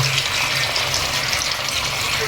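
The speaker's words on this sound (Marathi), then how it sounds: "तर याच्यामध्ये आपण पाणी टाकून घेऊ" Water pours into a spiced masala with a large mud crab for a curry gravy, a loud, steady gushing stream that runs continuously without speech.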